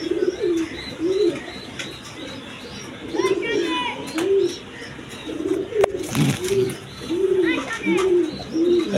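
Several down face pigeons coo in a steady rhythm of repeated rolling calls, close and fairly loud, with occasional higher chirps and brief noises mixed in.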